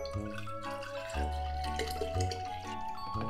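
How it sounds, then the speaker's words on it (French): Water poured into a glass jar for a homemade glowing jar craft, a soft close gurgle and trickle with changing pitch, fairly quiet and with no talking. "On y verse de l'eau."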